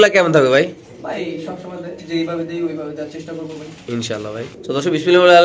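Pigeons coo in low, throaty tones close by while someone talks loudly over them at a pigeon seller's.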